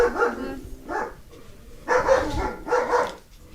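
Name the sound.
dog barking in the yard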